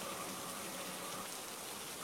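Stormy night rain hisses steadily and softly, an unbroken wash of falling drops without speech.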